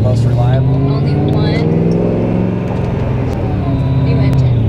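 A car goes by close at hand, its engine a loud, steady drone that holds throughout the moment with only slight shifts in pitch.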